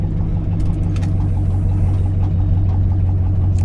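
A Lincoln Continental engine runs with a valve tick, a steady close low rumble with a faint rapid ticking riding on top, alone without voices.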